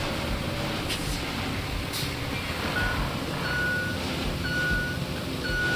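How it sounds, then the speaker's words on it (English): Reversing beeps from a truck in the video game Roadcraft, a steady series of short evenly spaced tones sounding over a continuous rumbling engine and ambient noise. "It even does the beeping."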